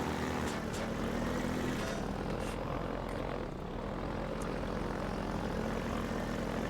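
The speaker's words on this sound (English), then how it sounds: "That's the flying drone." A Predator flying drone in Garry's Mod drones on with a continuous propeller-engine hum. It stays loud and steady for nearly seven seconds, with no talk.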